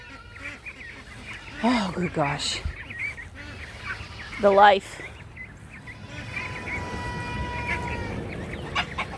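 A goose honks loudly near a flock of ducks during evening farm chores, two or three harsh close calls with softer quacking and clucking around them, while a person talks.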